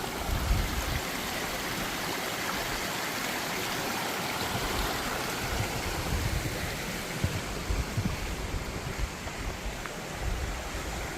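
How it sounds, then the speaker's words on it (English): A spring-fed woodland stream flows steadily and close by, a continuous broadband rush of running water with gentle trickling detail throughout. "It's spring fed stream here."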